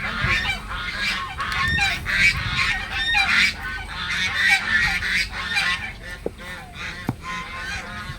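Farm poultry, apparently geese, honk in a dense, overlapping chorus that continues throughout, loud and close, with a few sharper calls standing out near the end.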